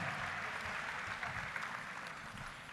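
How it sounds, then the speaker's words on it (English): Applause from an audience at the opening ceremony of a regional skills competition in Kigali, a steady, even wash of clapping from a sizeable crowd, somewhat distant and moderately quiet. "a round of applause to Inganzo Ngari"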